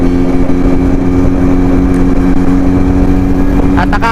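A motorcycle on a Sunday morning ride at Vermosa drones steadily and loudly with a constant engine hum and wind rush, holding an even pace throughout.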